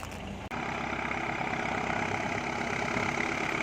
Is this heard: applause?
no